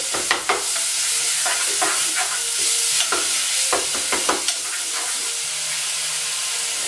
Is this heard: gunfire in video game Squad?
no